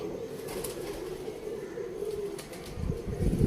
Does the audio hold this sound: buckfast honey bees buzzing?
no